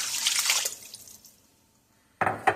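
Water pours into a pot for birria, a close splashing rush that fades out, then a second short burst of pouring after a brief pause, with no talking.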